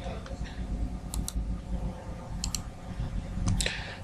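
A computer keyboard clicks with irregular clusters of keystrokes while an SQL command is typed into MySQL, soft close taps in short bursts with brief pauses.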